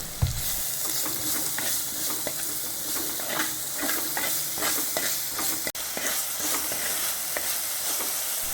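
Onions sauté in a pan with crushed garlic, ginger and salt, a continuous sizzle broken by repeated scraping strokes of a spoon stirring, close and fairly loud, with no voices.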